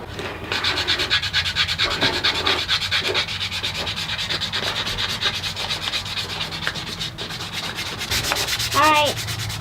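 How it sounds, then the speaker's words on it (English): Sandpaper rubs back and forth on a small wooden fish-shaped pencil holder, a close, continuous rhythmic scratching with brief pauses, and a voice chirps faintly near the end. "Kind of hard to sand"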